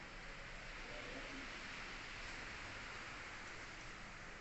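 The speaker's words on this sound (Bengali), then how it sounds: "বাইরে হচ্ছে মুসুলধারে বৃষ্টি সকাল থেকেই বৃষ্টি হয়েই যাচ্ছে" Steady heavy downpour hisses outside a house, an unbroken wash of noise that stays even throughout.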